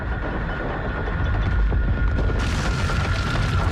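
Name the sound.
helicopter exploding in Stranger Things scene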